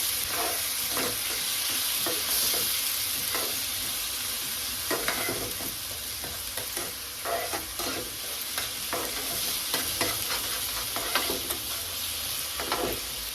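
Onion and tomato masala frying in a pan, a continuous loud sizzle broken by frequent scraping stirs, with no voices.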